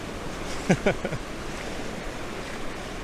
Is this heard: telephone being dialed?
no